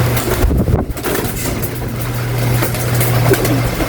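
Pigeons coo low and close amid steady wind buffeting the microphone, with a persistent hum running underneath.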